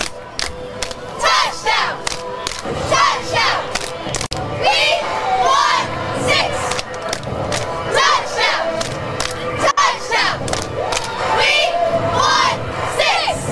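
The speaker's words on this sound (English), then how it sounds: "Favorite cheer is touchdown, we want 6." High school cheerleaders chant a touchdown cheer at a South Carolina Friday night football game, Lucy Beckham versus Hanahan, their loud rhythmic shouted voices filling the air alongside crowd noise and occasional thumps.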